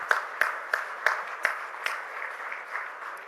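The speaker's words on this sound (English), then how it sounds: "Can we continue with a round of applause," Scattered audience applause at an oil and gas industry CEO conclave, a few distinct sharp claps over a soft, thin patter that stays modest throughout.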